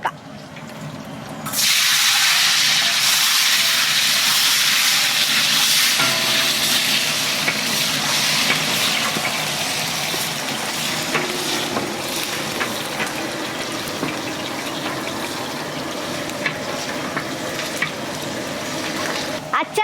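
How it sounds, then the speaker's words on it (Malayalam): Mustard seeds spluttering and popping in hot oil for a Kerala-style star fruit pickle, a loud dense sizzle starting suddenly and continuing steadily with scattered crackles, close by. "കടുക് ഇപ്പോൾ ചടപടാന്ന് പൊടിത്തെറിക്കാൻ തുടങ്ങി"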